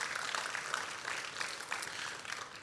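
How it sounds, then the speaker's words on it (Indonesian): A church congregation applauds together, a steady wash of clapping at moderate volume with no talking over it. "Kita berikan tepuk tangan buat Tuhan kita."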